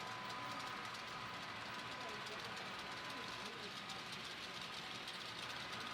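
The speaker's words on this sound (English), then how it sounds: "You can hear the clickety-clack of those wheels." Wheels of HO scale model trains clatter over the track of a layout: a faint, steady rolling rumble with light rhythmic clicking that continues unbroken throughout.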